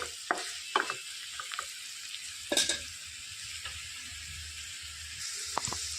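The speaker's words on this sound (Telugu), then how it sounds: "ఒక రెండు సెకండ్లు ఈ తాలింపు అనేది మంచిగా వేయించుకోవాలి" Soft, steady sizzle of tempering spices frying in hot oil, with a few sharp clinks and scrapes of a utensil stirring in the pan.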